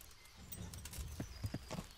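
Hoofbeats clop in an uneven trot over a soft background hum in the video game Kingdom Come: Deliverance, a few sharp thuds standing out toward the end.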